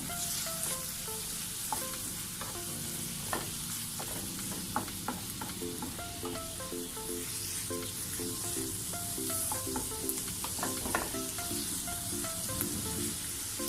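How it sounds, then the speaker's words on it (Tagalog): Sotanghon noodles with canned tuna and carrot sizzle steadily in a pan while being stirred, with frequent scraping and clinking strokes throughout and no talking. "Halu-haluin lang natin siya para pantay ang pagkakaluto ng carrot natin."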